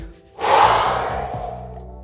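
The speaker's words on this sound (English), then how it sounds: "Breathing out into flexion." A single deep, forceful breath out, close and loud, rushing and then tapering off during a morning mobility exercise.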